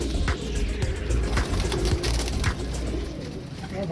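Fancy pigeons of Neel Dumbay, Teddi and Golden Dub breeds coo near and steadily, with low throaty calls repeating over a dense background murmur and no talk.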